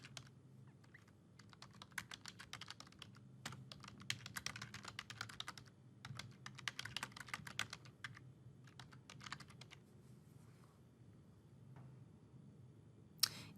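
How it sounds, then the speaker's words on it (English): Fast, crisp clicking of a computer keyboard as a description is typed into a text box, coming in several bursts separated by short pauses, close and moderately quiet with no speech. "In this description box, we will type the description"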